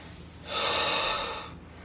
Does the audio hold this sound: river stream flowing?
no